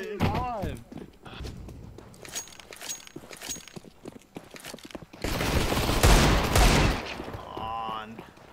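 A rapid burst of gunfire in the shooter game CS:GO erupts loud and dense for a couple of seconds, with scattered clicks and footsteps before it and excited voices talking throughout.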